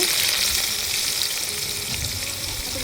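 Onion fries in oil with bay leaves and cumin seeds for a chicken curry, giving a dense, even sizzle that is loud and close with no pauses.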